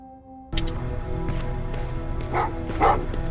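Several dogs barking in the video game Terminator: Resistance, a cluster of yips and barks starting abruptly after a quiet moment and continuing at moderate distance.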